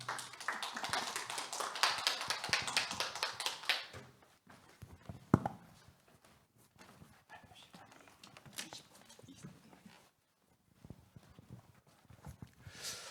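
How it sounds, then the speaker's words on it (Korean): Applause from a forum audience at a biodiversity conference, a brief burst of fairly quiet clapping that fades out after a few seconds and leaves light room noise and scattered taps. "나오실 때 큰 박수 한번 부탁드리겠습니다"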